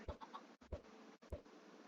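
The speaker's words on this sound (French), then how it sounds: "Déjà on a deux poules." Three short, low clucks from chickens in Minecraft, evenly spaced, each a brief burst against a quiet background.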